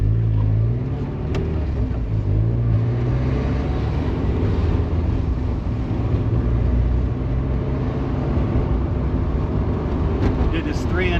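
1997 Mazda Miata with 3-inch exhaust piping to the muffler, a deep, steady, fairly quiet exhaust drone while driving, with someone talking over it.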